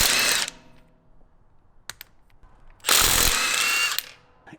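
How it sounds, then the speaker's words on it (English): A Milwaukee mid-torque impact wrench spins wheel nuts off in two loud, close bursts of rattling hammering, separated by a quiet gap with a few faint clicks. "it's a good everyday gun for taking wheels off, suspension work, that kind of stuff"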